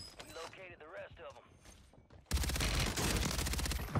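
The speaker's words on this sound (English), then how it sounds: "You missed your shotgun shot." A loud, dense burst of shotgun fire in the video game Warzone 3 cuts in sharply after a quieter stretch with a voice, then keeps roaring with rapid overlapping blasts to the end.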